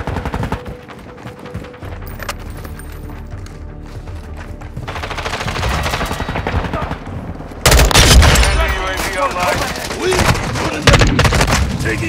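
Gunfire in Call of Duty Modern Warfare 2 multiplayer, sustained automatic bursts and sharp shots that grow louder and denser toward the end, with game voice callouts heard faintly among the shooting.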